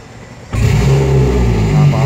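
Outboard boat engine with a kill lanyard starts up after the key is turned, going from quiet to a loud, steady running drone that holds close by through the rest.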